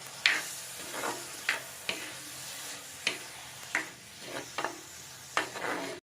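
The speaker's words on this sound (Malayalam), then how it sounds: "ഇതൊന്ന് ഫ്രൈ ചെയ്തെടുക്കാം." Brinjal frying with dried prawns in a pan, a steady soft sizzle broken by sharp clicks and scrapes of stirring at irregular intervals, close and fairly quiet.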